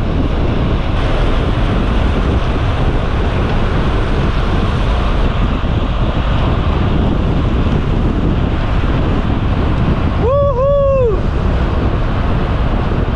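Steady, heavy wind buffeting the microphone during a gravel bike ride, a constant roaring rumble throughout, with a brief two-tone horn-like whistle near the end.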